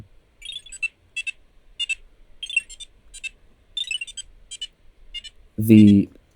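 Quick, high electronic chirps from a BBC micro:bit game repeat in short bursts, then a louder descending buzzy tone marks a score multiplier wearing off, ending the sequence.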